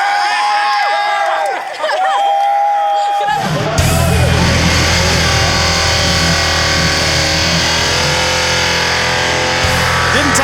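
Car performing a burnout at the Summat Nats Burnout Masters event, a loud sustained engine roar with spinning tyres that erupts after a quieter opening with crowd noise, then holds steady and continuous.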